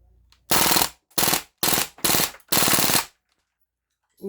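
Crosman AK1 airgun firing on full auto, five loud rapid bursts of shots in close succession with brief gaps between, near and with no talking.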